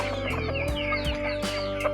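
Chickens cluck repeatedly near a rural garden fenced with netting beside bamboo, several birds overlapping in short bursts over a steady background hum.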